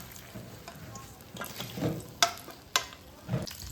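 Eggplants frying in a pan give a quiet, low sizzle, broken by a few sharp utensil clicks and taps near the pan, with no talk.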